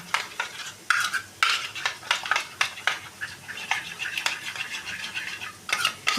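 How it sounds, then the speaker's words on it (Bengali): Ingredients for a Bengali doi dharosh (okra in yogurt) dish being beaten together in a bowl, giving rapid, irregular scraping and clinking strokes in uneven bursts, close and fairly loud, with no voices. "এই প্রতিটা জিনিসকে আমি একটু এবার ভালো করে ফেটিয়ে নিচ্ছি"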